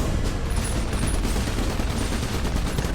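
Dense, continuous gunfire from shooting targets in the three-player co-op video game Iron Brigade, a loud, steady barrage of overlapping shots with no pauses and no voices.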